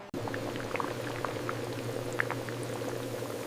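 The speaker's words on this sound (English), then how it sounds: "Here in the vacuum fryer, the jackfruit is rapidly submerged in hot oil" Jackfruit slices frying in hot oil inside a vacuum fryer at a chip factory: a dense, steady bubbling hiss with scattered crackles and pops over a constant low machine hum.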